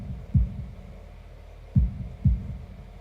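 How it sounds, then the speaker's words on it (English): Heartbeat sound effect from the visual novel Katawa Shoujo: deep, muffled thumps, one single beat then a close double beat, over a low steady hum. "holding my breath in an attempt to hear my heartbeat"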